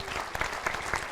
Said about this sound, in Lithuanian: Tai aplodismentai dar kartą ir